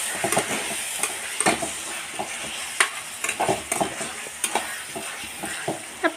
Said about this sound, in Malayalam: അപ്പോൾ ഇതൊന്ന് ഇളക്കി കൊടുക്കുക.